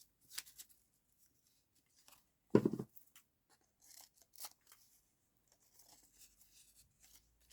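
Scissors snip through a sheet of acetate while a paper banner is being made, giving a few quiet, separate cuts with one louder crisp snip in the middle and near silence between them.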